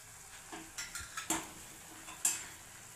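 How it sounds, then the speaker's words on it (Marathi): Chilli, coriander and turmeric powder sautéing in oil for a village-style bombil rassa, with a low sizzle under a series of scraping, clinking spoon stirs against the pan, close and fairly faint. "आता हे सर्व साहित्य आपल्याला 2-3 मिनिटं तेल सुटेपर्यंत चांगलं परतवून घ्यायचं आहे।"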